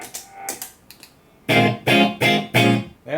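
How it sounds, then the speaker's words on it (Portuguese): An electric guitar plays through an amplifier's crunch channel: a few quieter picked notes, then four loud, distorted chord stabs in an even rhythm, close and with no voice over them. "Esse aqui é o canal crunch do amplificador."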